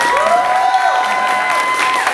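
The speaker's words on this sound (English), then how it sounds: "So, a little round of applause for them." Loud crowd cheering and clapping at a Filipino student cultural night, with high whoops and tonal shouts riding over the applause in a brief, lively burst.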